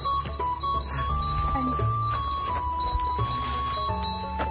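Steady insect chirping fills a hiking trail on Mount Yudachiuke in Bizen, Okayama, a dense continuous trill with faint birdlike tones and light rustling underneath; no one speaks.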